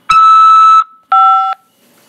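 Two loud electronic phone tones sound close up on a prison collect call: a long steady beep followed, after a short pause, by a shorter warbling beep, then quiet.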